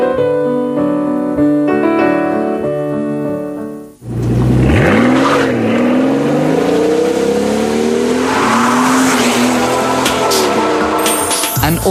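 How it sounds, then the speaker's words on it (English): A customised 2004 Mercedes BRABUS SV12 Bi-Turbo SL6.3 (R230) roadster's twin-turbo V12 revs hard, one loud climbing and falling sweep after a short burst of music, close and alone. "An audible delight is something the driver is treated to when revving up this customised SL"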